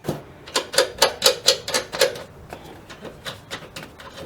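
A ratchet tightens coilover suspension bolts on a Mazda Miata NA/NB, giving quick, even bursts of clicking that grow loud, then slow and soften toward the end, with no talk.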